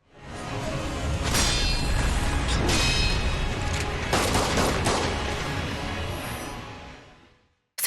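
A sustained barrage of gunfire from Isshin the Sword Saint in Sekiro: Shadows Die Twice, loud and continuous for several seconds with sharper cracking bursts within, then tapering off at the end.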